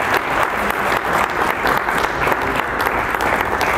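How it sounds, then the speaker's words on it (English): A crowd at a meet-and-greet charity event breaks into loud, dense applause that holds steady throughout with no talk over it. "Big round of applause to everybody."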